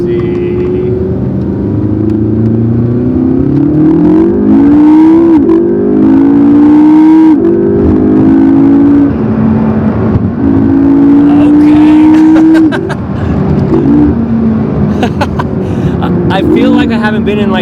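A McLaren MP4-12C accelerates through a series of rising revs, with each pull sweeping upward before easing off. The engine is heard loudly from inside the car, and voices are faintly present at times.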